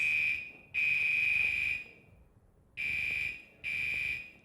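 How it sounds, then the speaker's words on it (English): A fire alarm sounds during a library presentation, its loud, steady high-pitched electronic tone repeating in long on-off bursts, alone without talk. "I'm not sure at what point the alarm started"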